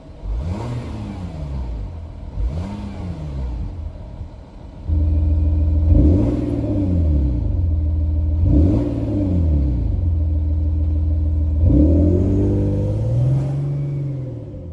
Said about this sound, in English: sports exhaust being on and off.